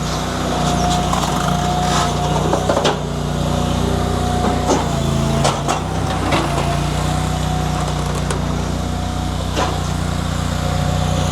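The engine of a Fuelwood Splitta 600 firewood processor runs at a steady drone while filling IBC totes with firewood, with occasional knocks and clatter of wood over the constant hum and no one speaking.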